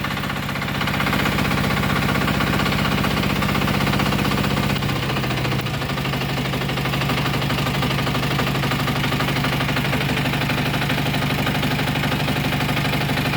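A DTZ walk-behind tractor's engine catches and settles into a steady, loud running chug that continues throughout with no talking.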